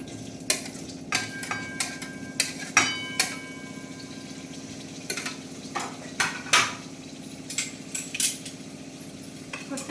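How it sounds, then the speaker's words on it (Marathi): Paneer fries in a pan in a small hostel room, with a quiet sizzle under sharp, intermittent clinks and scrapes of a utensil against the pan, spaced irregularly across the stretch. "पहिल्यांदा आपण हे पनीर जे आहे ते फ्राय करून घेऊया"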